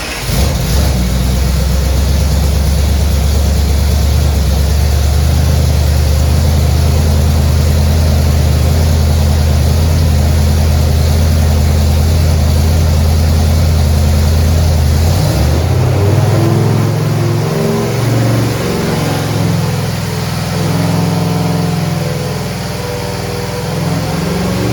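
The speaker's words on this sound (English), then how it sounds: "let's make some pulls on the dyno and see what it does" A 350 small-block Chevy V8, budget build, roars loud and steady at high revs on an engine dyno for about fifteen seconds, then drops back to a lumpy, rumbling idle that fades slightly toward the end.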